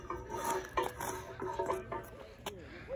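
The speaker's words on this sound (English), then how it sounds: "Just gonna wax it up there, so. This thing's crusty." A bar of skate wax rubs and scrapes against a crusty flatbar rail in short, uneven strokes, faint scratchy rasps with a few sharper clicks, quiet and close.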